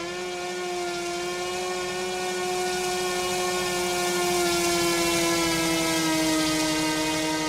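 Electric motor of an E-Flite Cessna 150 model airplane in the RealFlight 9 simulator, a steady high-pitched whine holding one tone and slowly swelling in level, heard alone.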